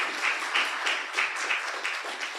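Steady crowd applause at a health summit following a talk, many hands clapping together at moderate loudness with slight surges, no voices over it.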